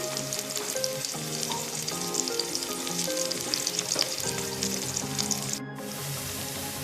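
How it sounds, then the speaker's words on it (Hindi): Onions with a few cloves fry and brown in a pan, producing a loud, crackling sizzle with stirring clatter and a brief sharp break near the end, close up and without speech. "अब मैं इनको प्याज को ब्राउन करूँगी।"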